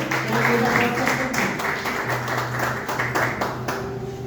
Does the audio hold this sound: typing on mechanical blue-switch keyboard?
no